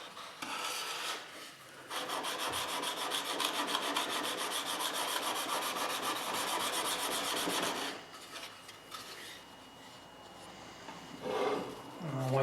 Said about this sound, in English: Now I'm going to clean it up on the fine side of the stone.